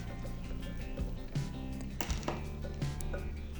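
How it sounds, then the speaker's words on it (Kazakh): Flour being mixed into pancake batter in a bowl, a soft repeated tapping and scraping with a few sharper knocks, close and moderately quiet, with no one talking. "Міне мен бөліп ұнды қосып араластырып жатырмын."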